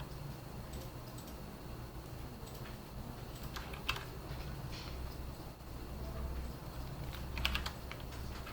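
Quiet computer keyboard keystrokes, scattered taps and a few sharper clicks over a faint steady background hum, pressed while pasting with Ctrl+V.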